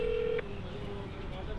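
A single telephone keypad tone sounds for the 8 key on a 112 emergency service call line, a clean steady beep lasting under half a second, followed by quiet line hiss.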